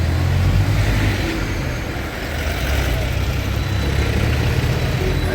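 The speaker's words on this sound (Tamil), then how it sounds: "வண்டி சூப்பராக போகுது" A road vehicle driving along near Kodaikal village, a steady loud engine drone and road rumble that stays constant throughout, with no talk over it.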